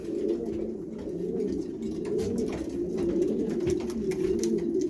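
Racing pigeons coo steadily and continuously, a low, layered murmur of several birds close by, with no talking.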